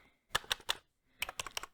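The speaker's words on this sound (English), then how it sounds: "This is a extra large claw-safe keyboard" Typing on an extra large claw-safe keyboard, two quick bursts of crisp, close key clicks, three taps then a faster run of five or six, in a quiet room.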